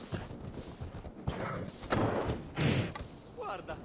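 Horse hooves in Assassin's Creed Valhalla thud and clop in a few heavy bursts beneath game sound, while a person talks over them.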